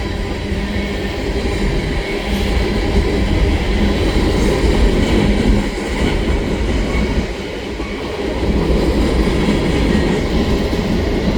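A CN freight train rolls steadily past westbound, a loud, continuous rumble of wheels and rail clatter filling the whole stretch, with no voices.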